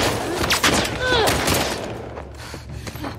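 Gunfire in The Last of Us Part II: a quick flurry of shots amid loud action and a shouting voice, fading toward the end.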